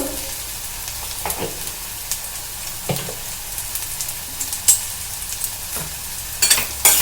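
Semolina and flattened rice mixture with chopped green chilli and salt being stirred in a pan, a steady soft sizzle broken by repeated scraping strokes and occasional clinks of the spoon, close and moderately loud, no voices.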